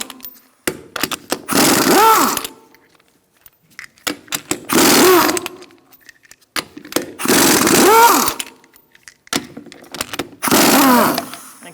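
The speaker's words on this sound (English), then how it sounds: "Using a 19mm socket, we're going to remove our lug nuts." An impact wrench removes the lug nuts on a Honda CR-V with a 19mm socket: four loud, whirring, hammering bursts of about one second, spaced roughly three seconds apart, with clicks and handling noise between them.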